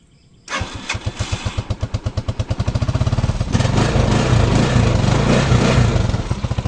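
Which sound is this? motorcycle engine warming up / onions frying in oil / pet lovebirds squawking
motorcycle engine warming up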